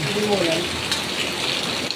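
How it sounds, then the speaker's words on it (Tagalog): Heavy rain pouring down outdoors, a loud, continuous hiss and patter of water on surfaces, steady throughout with faint voices underneath. "Grabe ang lakas ng ulan dito sa amin."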